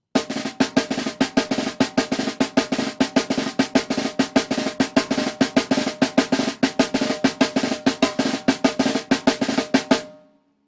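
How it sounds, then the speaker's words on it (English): Traditional Brazilian tarol pattern played on a snare drum, a steady stream of crisp, rapid strokes with regular accents, close and loud throughout, ending abruptly. "the next one on top is the snare drum pattern in the traditional way. It is the tarol pattern"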